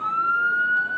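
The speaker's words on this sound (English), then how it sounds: "sirens of a police escort to the city limit" Police escort siren wailing steadily as it leads team buses out of town toward a state championship game, one sustained rising tone heard up close and loud with faint road noise beneath.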